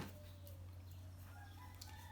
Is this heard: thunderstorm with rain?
no